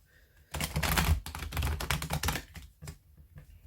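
A deck of tarot cards gets a quick riffle shuffle indoors, a dense burst of rapid flapping clicks lasting about two seconds and ending in a few scattered taps.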